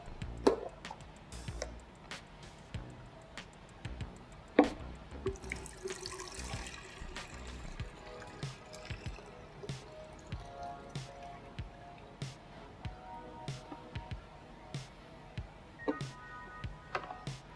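Water sloshes, drips and splashes as a film developing tank is emptied and refilled during the rinse, a faint, irregular run of liquid pours and droplets with a louder gush partway through, no talking.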